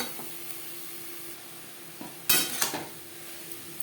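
Spiny gourd (kakrol) with salt and turmeric fries over a high-to-medium flame, a steady soft sizzle broken by a few louder scraping stirs of a spatula in the pan near the end.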